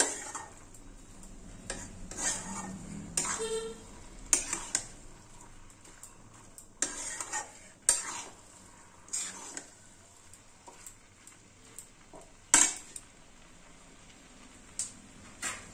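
Cabbage curry with fried spices being stirred and mixed in a pan, giving soft intermittent scraping and clinking of utensil on metal, fairly quiet with scattered sharper knocks.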